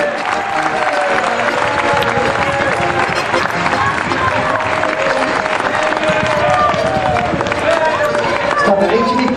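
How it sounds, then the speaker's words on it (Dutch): A crowd at a celebration for youth champions claps and cheers continuously in a large space, a steady roar of applause with voices mixed throughout. "Klappen, klappen, klappen!"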